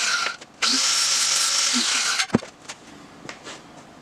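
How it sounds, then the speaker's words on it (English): A grinder cuts through metal pins clamped in a vise with a loud, sustained high-pitched whine lasting under two seconds, followed by a sharp metallic clank and lighter scattered handling knocks. "make a straighter cut in a vise with a grinder"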